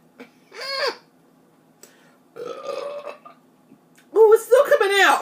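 Several loud, croaking burps after drinking soda come in three bursts, close to the microphone, the last longest and strongest, with short quiet gaps between them.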